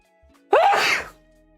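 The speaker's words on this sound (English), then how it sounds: "I did have to sneeze." One loud sneeze from a person close to the mic, a sharp drawn-in onset bursting into a full noisy blast lasting about half a second, then quiet room tone.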